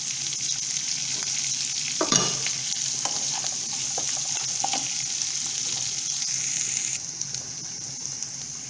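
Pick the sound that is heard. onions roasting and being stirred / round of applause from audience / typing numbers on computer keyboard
onions roasting and being stirred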